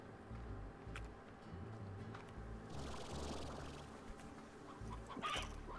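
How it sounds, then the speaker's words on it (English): Hens cluck in the farming video game Slime Rancher, a steady run of soft clucks and fowl calls over a busy game soundscape, with no talk. "These are not stony hens,"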